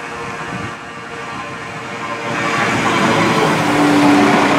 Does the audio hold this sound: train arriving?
yes